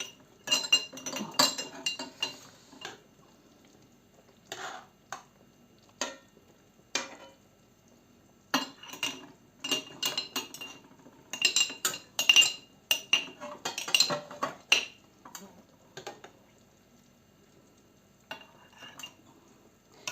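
Marinated peppers are spooned into small glass jars, with scattered bursts of clinking utensils against glass and bright knocks, separated by quiet pauses.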